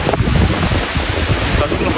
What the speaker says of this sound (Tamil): இங்கே பாருங்க தண்ணி ஊற்றுது